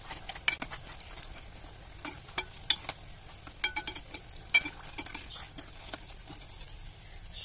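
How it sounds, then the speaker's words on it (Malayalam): Beef samosas deep fry in oil with a quiet, patchy bubbling, broken by soft clicks and taps of a utensil turning them, faint and close, with no talking. "ഒരു ഗോൾഡൻ കളറാവുന്നത് വരെ ഫ്രൈ ചെയ്തെടുക്കാം"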